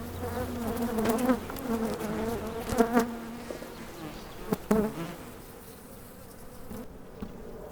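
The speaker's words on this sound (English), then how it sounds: "So this is the typical behavior with of the bees." Honeybees buzz and hum up close at the hive, a shifting swarm drone with occasional soft knocks and clicks, fading quieter near the end.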